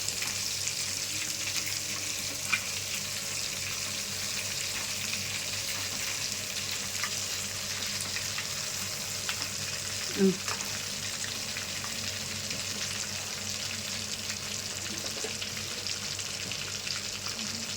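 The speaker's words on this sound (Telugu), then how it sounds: "నిదానంగా వేయించుకోవాలి లేదంటే లోపల పచ్చిపచ్చిగా ఉంటుంది" Chicken full joints frying slowly in oil, a low, steady, even sizzle throughout with an occasional faint stir or clink, no talking.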